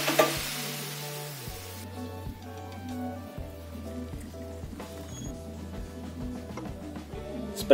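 Goat satay marinade heating in a wok with steady close sizzling and frying, broken by the scrape and clatter of a utensil stirring at intervals.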